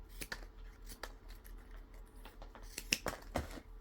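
Harakeke (flax) leaves being trimmed at the base: quiet, close, irregular sharp snips and clicks, several in a row with a cluster near the end, over a soft low hum.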